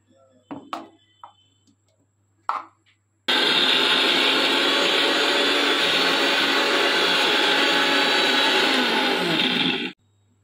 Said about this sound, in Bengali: এই ডালটাকে পেস্ট করে নেব পুর করার জন্য।